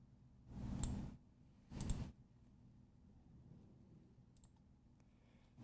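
Two clicks from a computer mouse, about a second apart, are made while working in PixScan cutting software. Both are fairly close and crisp over a quiet background.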